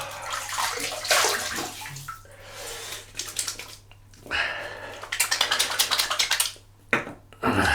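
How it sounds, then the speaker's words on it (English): Water splashes in bursts at a sink as a face is rinsed after a shave, with irregular near splashes and dripping, pauses between handfuls. "Rinse the face."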